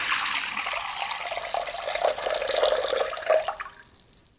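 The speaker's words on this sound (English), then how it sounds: "Put about 620 grams of water, room temperature." Room-temperature water pours steadily into a bowl for sourdough bread, a close splashing stream that rises in pitch as it fills, then tapers off.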